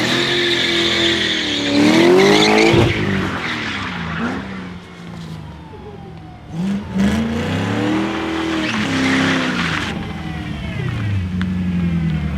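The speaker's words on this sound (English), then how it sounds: "Rev it up, dump the clutch. Okay. And then start spinning." A BMW 6 Series with an N54 engine revs hard, dumps the clutch and spins its tires, loud engine roar rising and falling over sustained screeching tire squeal, close by.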